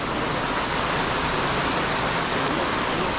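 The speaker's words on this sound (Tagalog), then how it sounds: "Oh, malakas ng ulan dun." Heavy rain pours down in a dense, steady hiss, close and loud, with no let-up.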